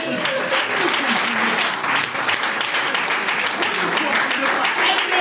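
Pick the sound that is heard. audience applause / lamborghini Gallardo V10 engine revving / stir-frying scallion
audience applause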